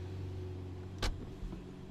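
Lamborghini Murcielago Roadster V12 idling in the sun as a low, steady hum with one sharp, brief burst near the middle and a smaller bump after it; no talking.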